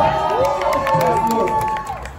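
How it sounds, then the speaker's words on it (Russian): A festival crowd cheers and shouts during an awards announcement, with whoops and voices rising over the noise as people react to the second and first places being named. "Аплодисменты!"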